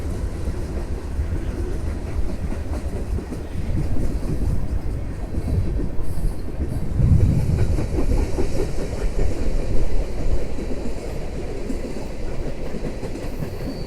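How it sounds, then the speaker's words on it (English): A train passes close by at a steady, loud level for the full stretch, its rumble and rhythmic rail clatter swelling slightly in the middle and staying strong to the end, with no talking over it. "Oh, my train again."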